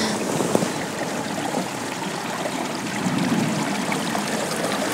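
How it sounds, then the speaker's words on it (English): Clear stream water flows steadily outdoors in the countryside, a continuous broadband rush and trickle close to the microphone with no voices. "You go down to the stream, which is, you'll hear it just over there."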